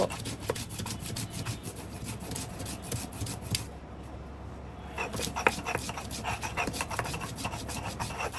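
Cumin, mustard seeds and dried chillies are ground into spice paste with a steady, rough rasping scrape that repeats, pauses briefly, then resumes in a quick rhythm.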